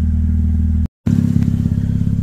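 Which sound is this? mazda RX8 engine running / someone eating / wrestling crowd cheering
mazda RX8 engine running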